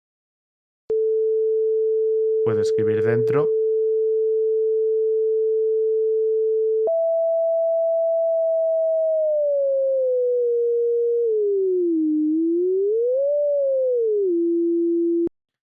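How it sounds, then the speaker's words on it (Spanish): A pure sine wave oscillator tone from Max/MSP holds a steady pitch, then jumps higher and glides down and up through several pitches before settling. Someone briefly speaks over it early on. "de esta forma podemos escuchar una onda sinusoidal"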